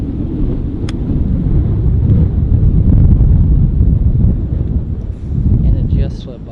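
Wind buffets the microphone on a golf course, a loud, steady low roar that rumbles for several seconds and eases briefly near the end, with some voices mixed in.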